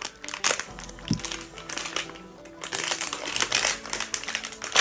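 A candy package wrapper is torn open and handled up close, giving dense crinkling and crackling plastic in uneven bursts. Faint voices are barely present.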